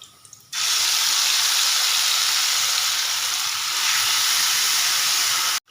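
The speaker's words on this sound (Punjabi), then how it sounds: "ਇਧਰ ਕੜਾਈ ਰੱਖ ਲਈ ਹੈ ਤੇ ਇਹਦੇ ਵਿੱਚ ਥੋੜਾ ਜਿਹਾ ਆਇਲ ਪਾਉਣਾ ਜ਼ਿਆਦਾ ਨਹੀਂ ਬਸ ਥੋੜਾ ਜਿਹਾ ਤੇ ਹੁਣ ਮੈਂ ਇਹਦੇ ਵਿੱਚ ਪਾ ਦਾਂਗੀ ਪਿਆਜ਼" Onions hit a little oil in a hot kadai and burst into a loud, continuous sizzle after a short quiet moment. The sizzle holds steady for about five seconds and then cuts off abruptly, with no talking.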